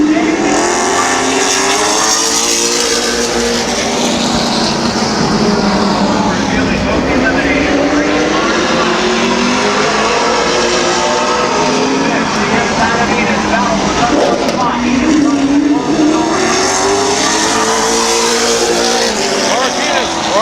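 Race cars roar around the oval at Midvale Speedway, a continuous loud engine drone rising and falling as the field passes, with an announcer talking over it throughout.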